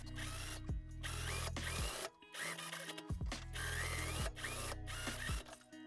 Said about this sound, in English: now we can sew the front edge together